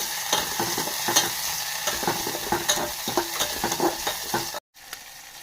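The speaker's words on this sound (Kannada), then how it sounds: "ಟಮಾಟಿ ಮೆತ್ತಗಾಗೋವರೆಗೂ ಮಿಕ್ಸ್ ಮಾಡ್ಕೊಂಡ್ರಿ" A spoon scrapes and clacks repeatedly through tomatoes frying in a pan, an irregular rhythm over a soft sizzle, with a brief silent gap near the end.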